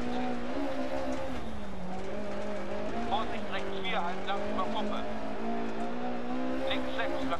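A rally car in the game Dirt Rally drives hard, its engine droning steadily and rising and falling in pitch with gear changes, with brief tire squeals toward the middle.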